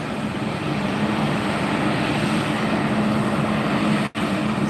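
An airliner arriving at Fort Lauderdale (FLL) airport: a steady, broad engine roar stays constant and moderately loud throughout, heard from a distance with no voices, and the sound cuts out briefly near the end.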